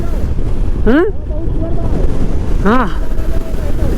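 Strong wind buffets the microphone with a loud, steady rumble throughout, on a rough mountain crossing in a Mustang storm; a voice speaks briefly twice over the roar.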